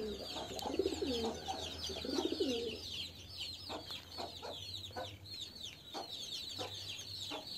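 Low, throaty coos of a homing pigeon recovering from illness, repeated close by, with chirping birds in the background throughout.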